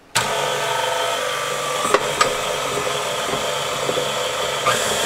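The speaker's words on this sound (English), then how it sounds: "And then I'm just going to turn on the mixer." An electric mixer whirs steadily at a constant pitch for several seconds while mixing crumbled cake for cake pops, a close continuous motor drone with a couple of small clicks and no talking.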